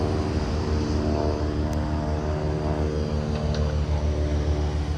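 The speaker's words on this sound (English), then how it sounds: "Look at that, a plane." Steady droning engine of an airplane passing overhead near a school demolition site in New York, a continuous loud rumble with no talking.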